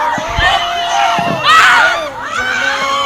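A congregation at a morning prayer meeting of a prophecy ministry shouts and cries out loudly, many overlapping voices rising and falling with a strong surge midway, close and crowded.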